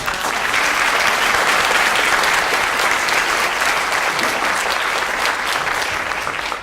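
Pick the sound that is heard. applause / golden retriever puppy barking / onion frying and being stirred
applause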